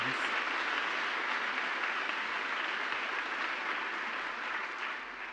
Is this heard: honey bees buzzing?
no